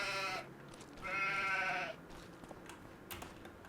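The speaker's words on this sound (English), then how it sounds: "Is that sheep walking on the grass?" Sheep in the Farming Simulator video game bleat twice in quick succession, a short call followed by a longer wavering one, clear and alone with faint ambient rustle after.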